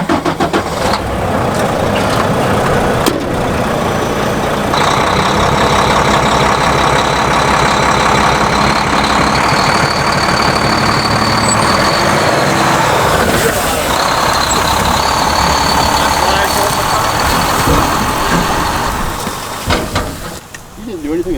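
A truck engine idles as it warms up on a farm at the end of harvest, a loud, steady rumble lasting throughout with voices talking over it.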